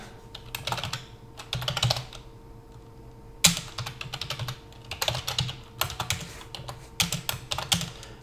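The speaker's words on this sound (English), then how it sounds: "I'm not typing well today" Close-up computer keyboard typing in several rapid bursts separated by short pauses, keys clattering sharply, with no one speaking.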